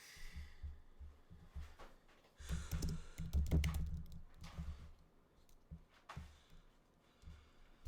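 Someone types on a computer keyboard in short, quiet bursts of key clicks, busiest in the middle, over a low hum with no talking.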